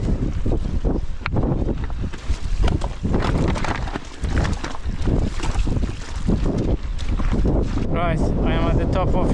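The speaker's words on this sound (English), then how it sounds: "Windy as you can tell." Strong wind buffets the microphone at the top of Sheepskulls, a hill in the Peak District, making a loud, continuous roar with gusty swells throughout.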